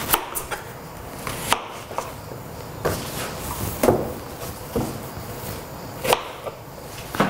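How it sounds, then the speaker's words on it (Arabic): Knife chopping onion on a board while preparing a vegan bean salad, a dozen or so sharp, close taps at an irregular rhythm over a quiet kitchen background, with no talking. "أوكي، رح أقطع البصل"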